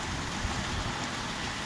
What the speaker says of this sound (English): God, look at the rain.